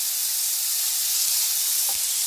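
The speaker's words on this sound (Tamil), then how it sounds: "கேரட் வெங்காயம் தக்காளி மூணும் வதங்கட்டும்." Carrot, onion and tomato sautéing in a pan for carrot chutney, giving a steady close sizzle and hiss throughout with a couple of faint stirring knocks and no voices.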